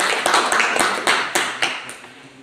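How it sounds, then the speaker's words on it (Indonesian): A few people in a classroom give a short burst of applause for the first student group after its presentation, with scattered separate claps that thin out and fade. "Tepuk tangan untuk kelompok 1."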